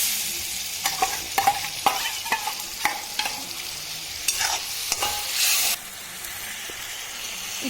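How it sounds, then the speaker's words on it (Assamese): A paste of ginger, garlic and dried chili, a little watery, sizzles loudly in hot oil while being stirred, with bursts of hissing spatter and repeated scraping clicks of the spoon, close up, no voices. "শুকান জলকীয়াৰ পেষ্টটো দি দিলোঁ তেলত।"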